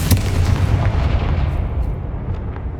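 A Confringo blasting spell explodes in Hogwarts Legacy: a sharp burst opens into a loud, rumbling boom that rolls and slowly fades over a few seconds, with no voices.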